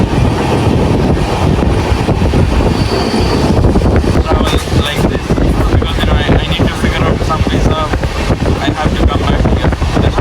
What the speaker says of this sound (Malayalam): അയ്യോ അടുത്ത ട്രെയിൻ വന്ന കേട്ടോ